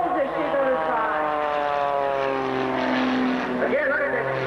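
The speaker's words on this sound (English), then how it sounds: "look at this performance of this airplane going right straight up and doing snaps on the way up" Aerobatic propeller airplane flown by Patty Wagstaff at the EAA AirVenture Oshkosh air show in 1991, performing snaps on a vertical climb: a steady, loud engine drone with shifting pitch as it climbs, with a commentator talking over it.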